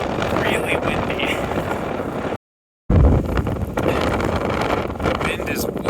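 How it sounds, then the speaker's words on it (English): Strong wind whipping across sand dunes, a loud, rough roar buffeting the microphone with a brief dropout midway, and a person talking faintly beneath the gusts. "I'm gonna head down because it is genuinely really windy."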